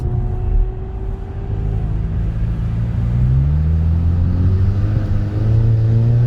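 A car climbs the wet road up Genting on fairly new tires that lose grip; the engine drones close and steady, then revs higher in rising pulls, with no talking over it.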